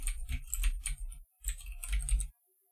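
Computer keyboard typing, two short bursts of quick close keystrokes separated by a brief pause, quiet and alone with no talk.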